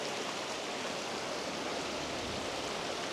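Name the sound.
waterfall in Glenariff Forest Park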